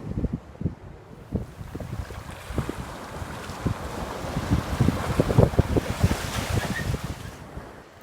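Sea waves and gusty wind on the shore of the Clwyd estuary at Rhyl, with continuous rushing surf, choppy splashes and wind buffeting the microphone, building louder toward the middle and easing near the end, no voices.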